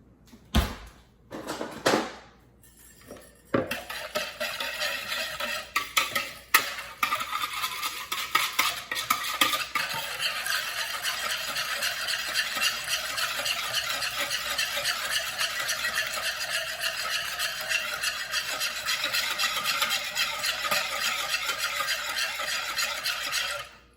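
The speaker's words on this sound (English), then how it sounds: "we're gonna whisk the sauce together" A sauce for sesame seed shrimp is whisked in a bowl, starting with a few clinks and scrapes before settling into a steady, rapid, continuous whisking close by.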